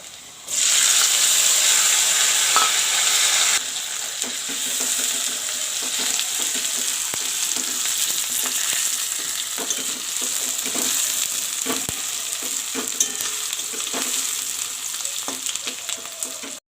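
Onion and garlic sizzle in hot oil in a pan with spices, giving a loud, steady frying hiss that starts abruptly and continues throughout, with faint stirring clicks.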